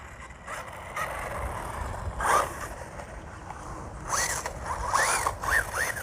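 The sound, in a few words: Rlaarlo 1/14 brushless RC buggy driving on grass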